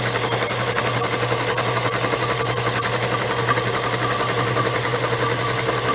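A small sewing machine runs flat out stitching fabric, a steady, fast, continuous mechanical whir with rapid needle chatter held at constant loudness, close up, with no talking.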